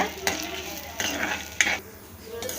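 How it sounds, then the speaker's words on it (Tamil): A spoon stirs lentils and dried chillies dry-roasting in a kadai, giving a few scraping strokes and metallic clinks over a soft background sizzle, close and moderately loud, with no voices. "இப்போ இந்த பருப்பு எல்லாமே நல்லா செவக்கிற வரைக்கும் நம்ம இதை வந்து வறுத்தெடுத்துக்கலாம் நல்லா கலந்து விட்டுக்கோங்க"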